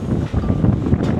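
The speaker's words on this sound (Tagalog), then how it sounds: "Ang lakas ng hangin." Strong wind gusts across an open suspension bridge in Busan, a loud, continuous low rumble with buffeting on the microphone.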